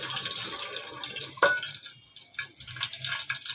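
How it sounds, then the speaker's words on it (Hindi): Ghee poured into a cooking pot for a potato and brinjal curry, heard as close wet dripping and trickling splashes with a few pauses, alone without talk. "सबसे पहले हमने पहले से कुछ तकरीबन आधा पाव घी डाला है, आधा हमने और डाल लेना है।"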